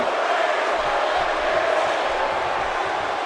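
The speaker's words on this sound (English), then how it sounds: "This crowd seems half and half right now because there we can hear" Steady, dense arena crowd roar from a WWE 2K18 wrestling video game match, a continuous wash of cheering voices that holds evenly loud throughout with no separate speech on top.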